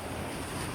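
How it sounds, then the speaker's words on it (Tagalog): Seashore waves wash in a dense, steady roar along a beach, mixed with wind buffeting the microphone, in a very brief burst. "Maglalakad tayo sa tabing dagat."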